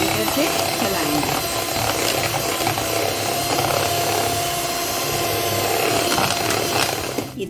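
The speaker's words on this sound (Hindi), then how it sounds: "हम इसको 5 मिनट तक बीटर से चलाएंगे।" An electric hand beater whirring through half-frozen vanilla ice cream in a bowl, a continuous buzzing mechanical drone with rattling texture that holds steady for several seconds and cuts off at the end.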